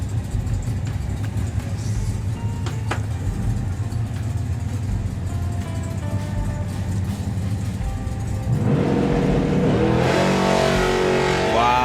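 An FIA top fuel dragster at a drag race, its engine a continuous loud roar that swells sharply into a harsher, rising blast near the end.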